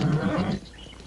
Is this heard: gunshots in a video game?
no